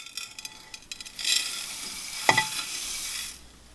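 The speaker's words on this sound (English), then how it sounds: "Then I'll put down a layer of soil in the bottom." Bonsai soil poured into the bottom of a shallow pot for a young dragon tree, a gritty rushing pour swelling near the middle of the clip with a brief sharper rattle, then easing off.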